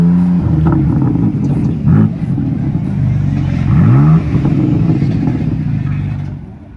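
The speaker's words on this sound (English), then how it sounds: "We've got another M2 here, which I think is just going to give us maybe a few little revs." A BMW M2 with a quad exhaust at a BMW event at Oulton Park revs several times, short rising and falling engine blips over a loud idle, close by and without speech.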